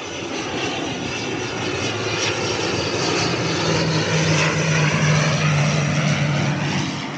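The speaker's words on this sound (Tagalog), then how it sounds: "May aeroplano. Ganyan yung sinakyan namin. Air Swift." Cabin of an Air Swift propeller airplane in flight, a loud steady engine drone with a low prop hum that holds level throughout, close and continuous with no talking.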